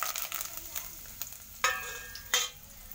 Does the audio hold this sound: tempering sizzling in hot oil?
yes